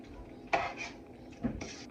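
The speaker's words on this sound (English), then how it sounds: "we're gonna give this a stir" A spoon stirs a thick tomato-sauce vegetable chili in a pot, giving two soft scraping, clinking strokes against the metal sides over quiet kitchen background.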